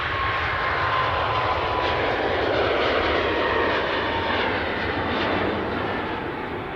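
An Air Canada airliner departing for Vancouver, a loud, continuous jet-engine roar with a faint high whine, steady for several seconds and easing slightly at the end.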